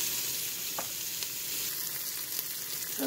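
Sausage sizzling in a hot pot on the stove, a steady, close frying hiss that holds throughout, with a few faint clicks and pops rising above it.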